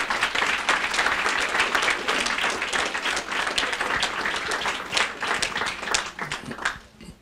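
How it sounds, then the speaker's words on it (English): A school board meeting audience applauds a girls tennis team and coaches, sustained dense clapping from many hands that continues for several seconds before tapering off at the end. "Give them a round of applause."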